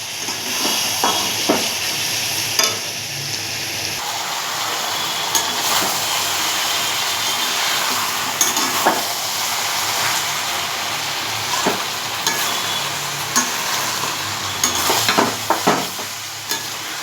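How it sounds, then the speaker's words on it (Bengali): A curry masala of spice paste, cumin powder and tomato paste fries in a pan for an okra, potato and prawn dish, with a steady close sizzle broken by frequent scraping stirs and spatula knocks throughout. "এবার এটাকে ভালো করে কষাবো।"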